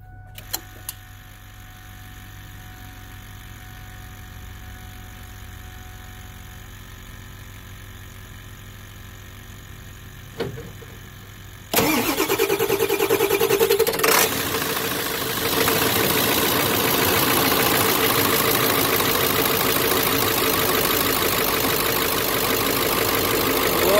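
A 1999 Ford F350 with a 7.3 Powerstroke diesel, just out of a year of storage, sits in a quiet ticking hum with a couple of clicks before cranking and firing into a loud, steady, clattering idle that runs to the end.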